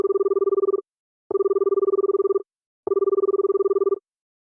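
A telephone rings unanswered, three identical electronic trill bursts separated by short pauses, steady and clear with no voices.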